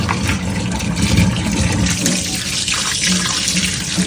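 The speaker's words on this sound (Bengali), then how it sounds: "ধুয়ে রেডি করে রেখে দিচ্ছি হচ্ছে কাতলা মাছ" Running water rinses and washes katla fish at a sink, a steady, loud splashing flow that continues throughout with no talking.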